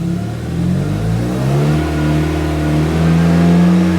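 A car engine revs up to a steady 2,500 RPM during a battery charging ripple test, with a sustained mid-pitched hum that rises and then holds loud and close for several seconds, no talking.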